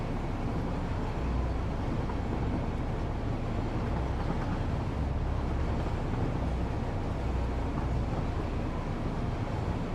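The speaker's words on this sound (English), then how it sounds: "I'm going to turn the game down a bit because the train is obnoxiously loud" Loud train rumbling through the factory-building game Satisfactory, a continuous heavy low roar and rattle of rail wagons that stays steady and close for the whole stretch with no talk.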